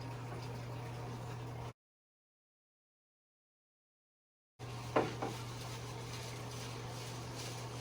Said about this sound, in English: by the time this water is done siphoning